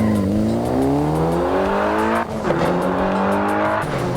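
A Mitsubishi Lancer Evolution VI tuned by HK51, a turbocharged all-wheel-drive car, accelerates hard with a loud, steady rising engine note, briefly dipping at a gear change before climbing again, close and continuous.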